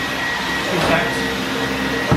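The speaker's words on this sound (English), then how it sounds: "This boy loves a vacuum." Vacuum cleaner running steadily on new bedroom carpet, a loud continuous whirring drone close by with a brief bump near the end and no clear talk.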